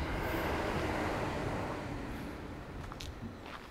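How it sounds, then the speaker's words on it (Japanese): A distant train rumbles past a bonsai nursery near a station in Takamatsu, Japan, a low broad roar that gradually fades, with a brief faint squeal near the end. "しょっちゅう電車の音がするんですけど"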